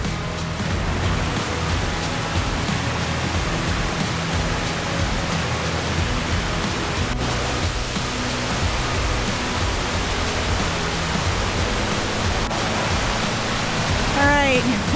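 Hikers wading through the water of a flooded trail in Shenandoah, a continuous rushing, splashing wash of moving water heard close and steady throughout, with faint voices mixed in.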